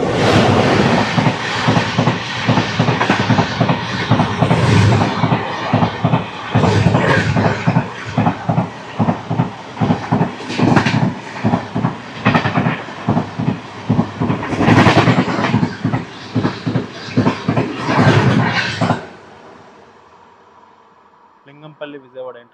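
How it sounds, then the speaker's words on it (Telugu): Lingampalli–Vijayawada Intercity Express rolling past at a junction, loud and close, with continuous rumble and rhythmic wheel clatter over rail joints for about twenty seconds before fading away. "Lingampalli Vijayawada intercity express"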